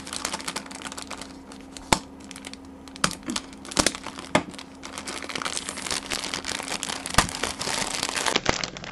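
Packaging of Kasper baby diapers, size maxi 4, being torn open and handled, giving a run of close, sharp crinkles, rips and rustles with several loud snaps across the whole stretch.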